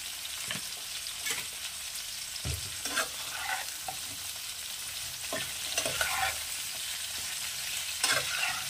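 Mixed vegetables for a drumstick, bottle gourd and fish curry sautéing with a pinch of salt in a pan, a steady close sizzle broken by irregular scrapes and stirs of a spatula, with no talking.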